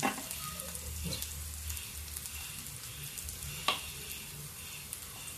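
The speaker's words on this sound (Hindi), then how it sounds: "देखिए इसमें हम डाल देते हैं इतना प्याज" Onions hit hot oil already holding garlic, green chilli and ginger for a dry cabbage dish, giving a soft, steady sizzle with a few faint clicks of a spoon against the pan.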